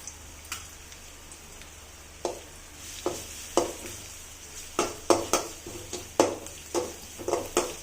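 Onions sautéing with ginger garlic paste in a pan give a soft low sizzle, broken by a series of sharp spoon scrapes and clinks against the pan that come faster toward the end.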